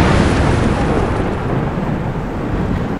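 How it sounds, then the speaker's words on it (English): A heavy, loud rumble of thunder rolls from the start and slowly fades over a few seconds, with no voices. "Did you hear that fucking thunder?"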